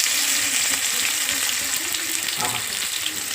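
Chopped onion fries in hot oil with a loud, continuous close-up sizzle that barely changes, joined by faint stirring.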